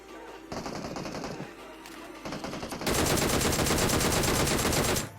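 Automatic gunfire from the mobile battle-royale game PUBG Mobile, a first burst of rapid shots followed by a louder, dense sustained volley that runs nearly to the end.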